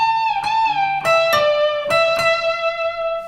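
An electric guitar plays a bending lick, with a few sustained, bent notes picked one after another, clear and close with no talking.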